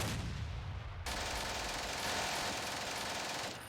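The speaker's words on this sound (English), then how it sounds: "This tank here. We'll fire." A tank opens fire in the Steel Panthers WWII strategy game. A dense, sustained roar of gunfire runs loud and continuous for several seconds, with a sharp jump in level just after the start, and there is no talking.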